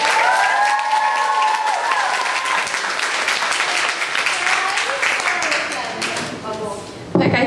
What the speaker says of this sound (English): A round of applause for Sarah Ruslan.